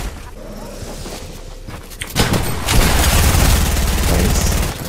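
Gunfire in a video game, with a dense rattle of shots and booms that grows louder midway and continues as a sustained, heavy barrage.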